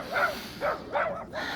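Dogs barking at an RV campsite on open desert land, four short, distant barks spaced unevenly over a quiet background.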